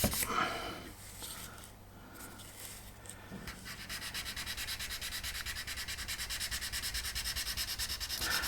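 Steady back-and-forth rasping of sandpaper on small wooden model ship parts, a fast even rhythm that picks up after a few quieter scrapes at the start.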